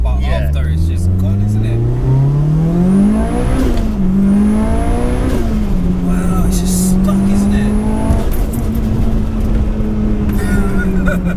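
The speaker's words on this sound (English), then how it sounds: "I can't even believe that I'm tearing about in the Evo 6. Like, with this power as well." A 630 bhp Mitsubishi Evolution VI pulls hard through the gears, engine note climbing steeply, dropping at each shift and climbing again, loud from inside the cabin with occupants talking over it.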